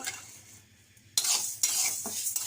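Lentils (dal) fry in a pan, a soft sizzle that jumps louder after a sudden clatter, followed by spoon scrapes and stirring knocks against the metal.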